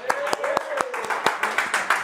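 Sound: applause

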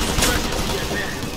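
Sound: gunfire in the video game Operation Flashpoint: Red River

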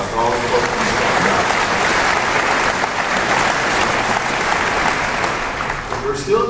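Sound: audience applause

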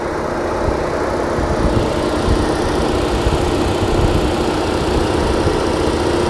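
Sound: Opel Blazer engine idling

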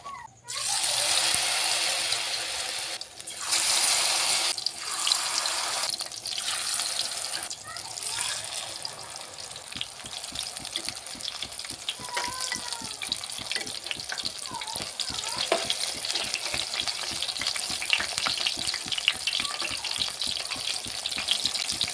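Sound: pumpkin flower fritters deep frying in oil

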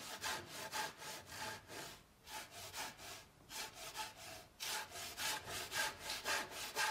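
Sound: Japanese ryoba double-edged saw cutting wood

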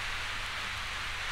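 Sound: heavy downpour rain, radio drama effect

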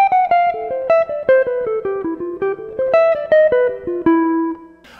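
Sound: jazz guitar lick from a solo

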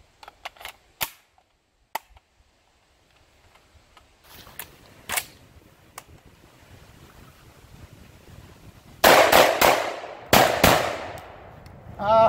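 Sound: rapid shotgun fire with 7.5 low-brass shells

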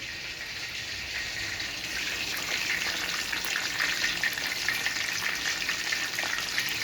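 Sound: onions frying in a pan

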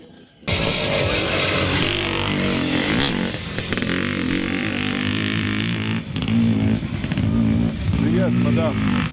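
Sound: motocross motorcycles racing on a track

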